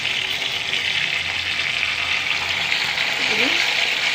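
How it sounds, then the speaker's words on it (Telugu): Masala paste and chutney fry in a pan for stuffed ivy gourd curry, giving a continuous, even, close sizzle. A voice is faintly heard near the end. "మసాలా పేస్ట్ వేసుకుంటున్నాము చూడండి చట్నీ కూడా వేసుకుంటున్నాము"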